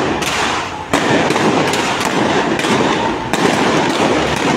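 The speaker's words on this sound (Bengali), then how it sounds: "ফায়ার চলছে পুলিশের" Police gunfire during a street clash between students and police at Court Point in Sylhet: loud, dense bursts of rapid cracking shots in close succession, with brief gaps between volleys and no talking.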